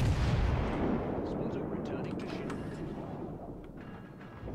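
Heavy naval gunfire from HMS Lion, a battlecruiser in a naval combat video game: deep booming blasts and rumbling salvos that roll away over a long decaying roar, with faint speech underneath.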